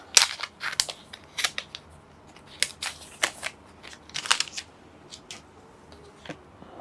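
Packaging being torn and opened around a board game card during a Hybris: Disordered Cosmos unboxing, heard as a series of sharp, close crinkles and snaps in irregular bursts over a quiet room.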